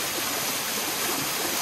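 A waterfall in Georgia pours with a continuous broadband rush of falling water, heard close and steady.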